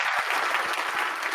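Applause rings out for a few seconds, a dense, steady patter of clapping hands with no voices over it.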